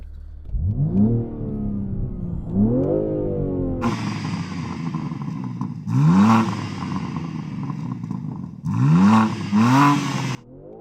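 A BMW M3 Touring engine revving hard while stationary, several loud sweeping rises and falls in engine pitch, each rev climbing sharply and then dropping back to idle, heard close and alone.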